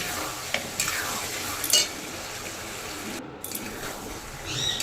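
A spatula scrapes and stirs spices and ingredients frying in oil in a pan for an aloo tikki ghugni chaat, with a few sharp scraping strokes over a faint, steady sizzle.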